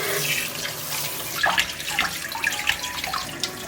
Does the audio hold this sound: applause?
no